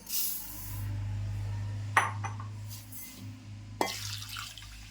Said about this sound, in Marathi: आता मी तांदूळ सुद्धा धुवून घेते.